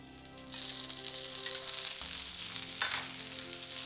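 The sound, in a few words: potatoes frying in very hot oil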